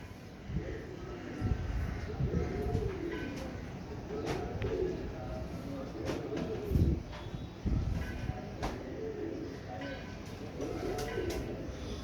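Tiger, Dub Wala and Rampuri pigeons cooing continuously at close range, low throaty coos repeating over a busy, noisy backdrop.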